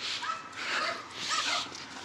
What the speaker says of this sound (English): I take you for a walk, Chewie, every dog in the neighborhood acts like they've never seen you before?